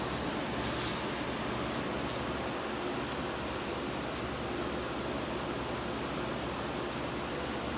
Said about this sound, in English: There's the dang air unit you hear.